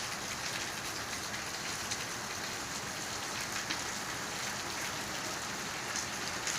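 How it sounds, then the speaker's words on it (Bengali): Heavy rain pours onto a home's rooftop in a constant, close, broadband hiss of many drops, holding at an even level from start to finish with no voices or other sounds. "আমাদের ছাদের বৃষ্টি।"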